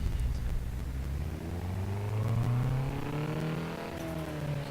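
A Nissan Silvia S13 with an SR20 engine, tuned for drifting, in Forza Horizon 3, revs and accelerates with rising engine tones, a smooth climbing drone heard close and steady.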